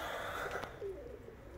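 Pigeons coo softly in a backyard loft, giving a low, faint murmur of calls over a quiet background with one brief sharper chirp.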